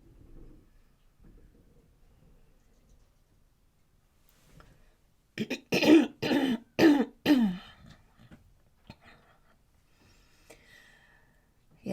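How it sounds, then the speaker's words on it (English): A person coughs and clears their throat several times during a pastel drawing session, with a close burst of four or five rough coughs in quick succession midway, surrounded by quiet room tone. "the cough is not gone yet"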